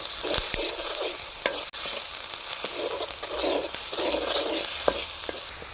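Sizzling and crackling of a ground chili paste frying in a pan with salt, steady hiss with occasional sharp clicks of stirring, close and fairly loud.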